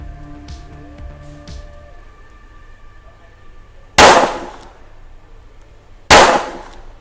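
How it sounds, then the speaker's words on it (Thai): Two sharp, loud double-action revolver shots at a target 7 metres away, a few seconds apart, each with a brief ringing decay, over a low steady hum and a few faint clicks. "เป็นการยิงแบบดับเบิลแอคชั่น อีก 4 นัด ที่กลางตัว X นะครับระยะ 7 เมตร"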